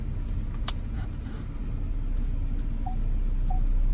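A 2018 Ford Escape SEL backs slowly toward a wall, its engine a steady low rumble with faint road noise, and two short parking-sensor beeps sound near the end.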